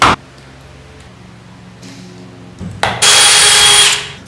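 A brief tap and low hum, then a loud power drill whines into wood for about a second before cutting off.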